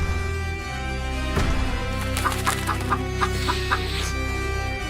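Cartoon chicken clucking in a short run of quick, evenly spaced calls over a sustained musical background in an animated fairy-tale scene with a giant.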